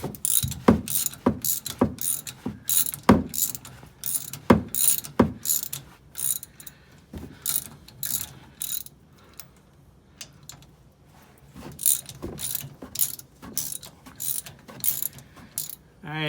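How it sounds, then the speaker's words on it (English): A 5/8 socket wrench ratchets bolts loose on the rear differential of a Land Rover Series 2A, in repeated bursts of sharp, close clicking separated by short pauses, with no talking. "I'm going to continue loosening all these bolts up"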